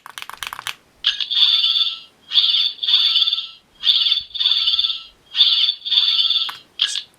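A Character Options Fourteenth Doctor sonic screwdriver toy sound effect: a buzzing, warbling high-pitched whine pulsing in short bursts with brief pauses, close and fairly loud.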